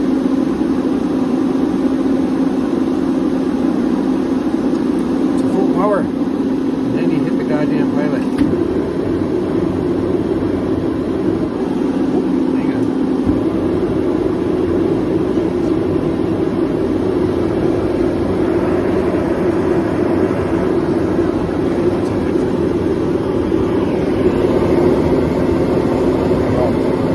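Mr. Heater 75,000–125,000 BTU turbo propane heater running at full gas power, a loud continuous fan-driven roar with a steady low hum, unbroken for the whole stretch.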